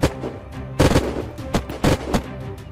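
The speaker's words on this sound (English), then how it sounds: "Shots are coming." Bursts of gunfire in the video game Unturned at a military base siege, several loud close volleys of rapid shots separated by brief gaps.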